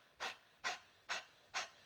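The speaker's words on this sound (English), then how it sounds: "very, very shallow breathing, like the breath of fire, which is just that really quick" Four quick, sharp breaths in even rhythm, forced out through the nose as breath-of-fire breathing, close and fairly quiet against near silence.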